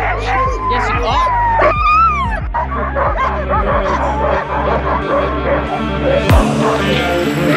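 Sled dogs in Durango, Colorado, bark, yip and whimper in an excited, overlapping chorus just before a dog sled ride, loud and close throughout, with a human voice mixed in.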